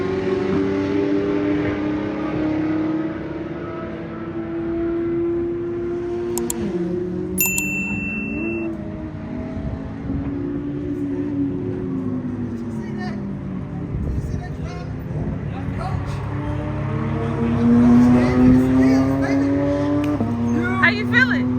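A Nissan GT-R Premium on an autocross course, its engine climbing and falling in pitch through gear changes with tire noise and a loud surge near the end, while people talk and cheer over it.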